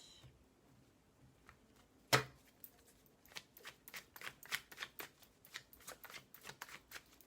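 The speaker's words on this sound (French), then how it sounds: "Je vais quand même bien mélanger les cartes" Tarot or oracle cards being shuffled by hand: one sharp snap of the deck, then a quick, crisp run of riffling and sliding, close and fairly quiet.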